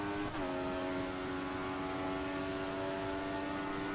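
A Ferrari race car engine holds a steady, loud, high-pitched tone on track during a GP3 race in the USA, a constant whine with strong harmonics and little change in pitch after a brief dip at the start.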